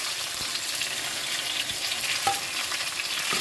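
Chillies, cumin, coriander and turmeric sizzle together in a hot pan for a vegetarian pea dal, a steady, close, crackling fry with faint stirring and no voices.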